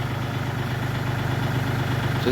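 A vehicle engine idles steadily in a village in Na Chueak district, Maha Sarakham, just before being switched off: an even, low, pulsing rumble that holds constant throughout, with no voices.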